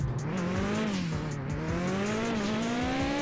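A car drifts in Mon Bazou, its engine droning steadily and wavering in pitch while the tires squeal continuously through the slide, with no voices.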